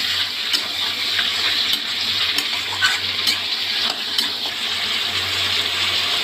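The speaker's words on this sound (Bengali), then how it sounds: "এবার মাংসটা দিচ্ছি। তেলে যেহেতু পেঁয়াজ ভাজাটা ভেসে উঠেছে," Chicken pieces, free-range country chicken, go into hot oil with floating fried onions and chopped tomato, giving a steady broad sizzle with faint stirring clinks and a low hum beneath, no talking.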